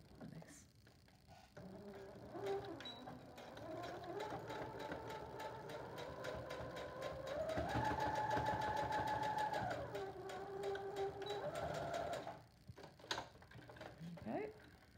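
Sewing machine stitching seams on a fabric face mask, its motor whirring in a steady, rising run that holds for several seconds before slowing and stopping, with a voice speaking quietly near the start.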